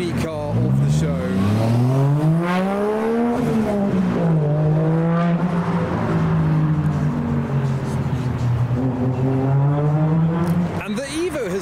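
A car with a Toyota 1JZ engine swap pulls away from a car show, its engine revving loudly and continuously, the pitch rising, dipping and climbing again as it drives off.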